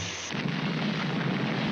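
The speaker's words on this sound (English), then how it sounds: "That explosion really smashed you up." A cartoon explosion bursts loudly at the start and rolls into a dense, sustained roar of rumbling debris noise that stays strong for under two seconds.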